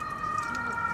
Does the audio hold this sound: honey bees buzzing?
no